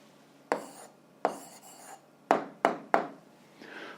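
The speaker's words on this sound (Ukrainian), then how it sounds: "Ну що ж, записуємо відповідь, пишемо відповідь" Handwriting on paper, with five sharp pen taps or strokes spaced irregularly, each followed by a short scratchy trail, close and quiet in an otherwise still room.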